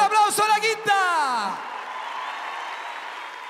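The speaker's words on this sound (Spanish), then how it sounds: "Fuerte el aplauso a la Quinta!" A shouting voice gives way to festival audience applause for a comedian, a steady wash of clapping that lingers at moderate volume.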